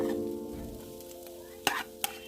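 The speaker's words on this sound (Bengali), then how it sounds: "এবার আলুর সাথে এদিকে ভালো করে ভাজবো" Potato and fried egg filling for egg samosa being stirred and fried in a pan, a soft continuous sizzle with a steady tonal hum and two short sharp scrapes of the spatula near the end.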